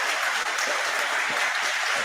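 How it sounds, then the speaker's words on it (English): Audience applause at a televised debate among Oxford and Cambridge students, a steady dense wash of clapping through the whole stretch without a pause, at an even level throughout. "Waiting for these retards to stop clapping"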